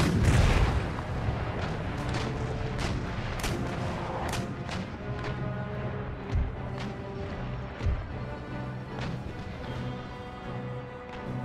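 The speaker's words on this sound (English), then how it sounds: "Whoops, wrong broadside." Ship cannons fire a broadside in Empire: Total War, a long ragged string of booming shots and cracks rolling over several seconds against a steady rumbling battle bed, with a couple of heavier thuds later on.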